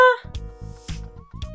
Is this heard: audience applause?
no